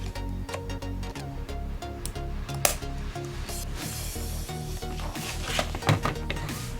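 Battery being inserted into a Canon EOS 350D DSLR camera, with soft close-up plastic rustling and handling noise throughout, a sharp click partway through and a few more clicks and taps toward the end.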